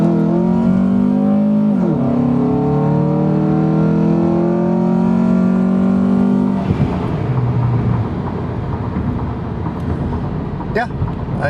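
A 2005 Honda Accord with a K24 engine, five-speed automatic and a K&N intake revs steadily and loudly, the engine note rising and falling before settling into a rougher idle-like rumble near the end.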